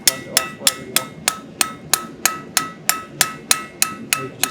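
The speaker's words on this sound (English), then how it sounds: "Try not to angle your hammer down or back or anything, literally flat as you can." A blacksmith's hammer straightening hot steel on an anvil: a steady run of about thirteen sharp, ringing, evenly spaced blows, close and loud, with no talking.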